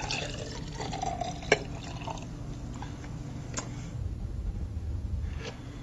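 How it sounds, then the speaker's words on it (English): Juice poured into a glass during a children's conservation demonstration, giving a soft, steady liquid trickle close by with a brief clink partway through, quiet and without talk. "Now we're going to pour this juice into this glass."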